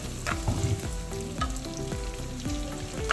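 Small onions sauté in a pan for jackfruit thoran, a close, lively sizzle broken by regular scraping stirs of a spatula in a steady rhythm.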